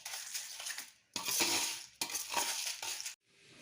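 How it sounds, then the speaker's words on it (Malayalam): Aval masala, a flattened-rice evening snack, is tossed and mixed in a bowl, producing three bursts of dry crunchy rustling and scraping separated by brief pauses, close and moderately loud with no voices. "നന്നായിട്ട് മിക്സ് ചെയ്യാം"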